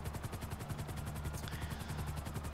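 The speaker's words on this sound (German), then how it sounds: "Dort hinten, das ist doch ein Heli, oder?" A helicopter in the video game GTA 5 thuds steadily in the distance, its rotor chop a fast, even pulse that stays at a constant moderate level with no voices over it.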